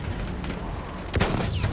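Sniper rifle fire in Battlefield 1 on a They Shall Not Pass map, with a sharp loud shot cracking out after a stretch of background battle noise, followed by echoing rumble.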